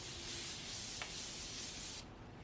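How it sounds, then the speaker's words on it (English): Peach-scented makeup setting spray misted across a face: a continuous soft, airy hiss lasting about two seconds, close and fairly quiet, then cutting off to near silence. "just like that, spray across the face"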